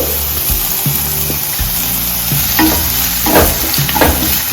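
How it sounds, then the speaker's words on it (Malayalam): Onion frying in hot coconut oil, a loud close sizzle with stirring scrapes and a low mechanical hum beneath, and no talk. "വെളിച്ചെണ്ണ ചൂടായി വരുന്നുണ്ട്. ഞാൻ അതിലേക്ക് ആദ്യം ഇട്ട് കൊടുക്കാൻ പോകുന്നത് ഉള്ളിയാണ്."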